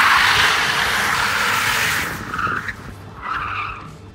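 The tires of an electric Superformance Shelby Cobra spin and squeal loudly under heavy torque in a sustained screech. The squeal fades after about two seconds, followed by brief chirps of tire noise.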